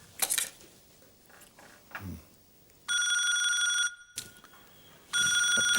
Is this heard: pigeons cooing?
no